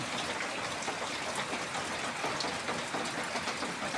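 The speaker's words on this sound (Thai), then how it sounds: "บรรยากาศฝนตกลีนแล้วจ้า" Steady, dense hiss of rain falling continuously, close by, with no voices or other distinct sounds, on a rainy day at a rural Thai home.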